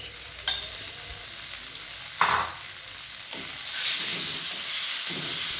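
Tofu stir-fried in a small amount of oil, a steady close sizzle with a few sharp spatula scrapes and stirring bursts, no voices.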